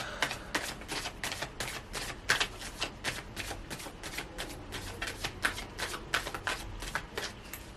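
A deck of tarot cards being shuffled by hand, a rapid run of crisp riffling flicks and taps repeated over several seconds, close up with no voices.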